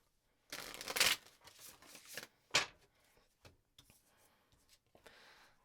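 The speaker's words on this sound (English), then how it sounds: "I'm going to shuffle 2 more times" A deck of cards is shuffled for a reading, giving a couple of quick riffling bursts followed by softer taps and slides of the cards in a quiet room.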